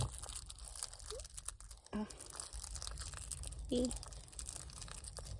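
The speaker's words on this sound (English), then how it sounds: "As long as you're chewing on that, not the bed." An animal chews and gnaws on something close to the microphone at an off-grid homestead, with crunchy tearing bites and a brief squeak, while a person talks to it.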